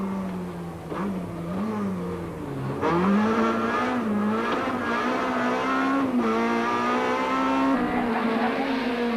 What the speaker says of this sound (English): Meanwhile, Habich was on the rev limiter as he flashed past the camera.